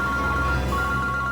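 A mobile phone rings in an indoor police-drama scene, a steady tonal ringtone holding close and fairly loud for its whole short length with no talk over it.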